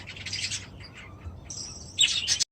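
Budgerigars chirping in an aviary, a busy mix of high twittering and chatter, close and fairly loud, with a brighter flurry of calls near the end.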